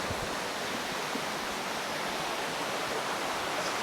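Elephant Falls in Meghalaya, its second cascade, roars as a dense, even wash of falling water, close and continuous, with no voices heard.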